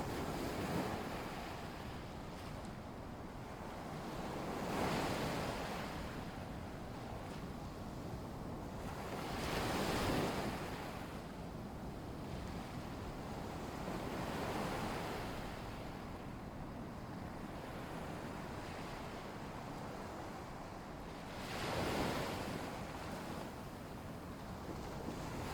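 Gentle lagoon waves wash in slow, soft swells, each surge rising about every five seconds over a steady hiss of surf and light wind, with no voices.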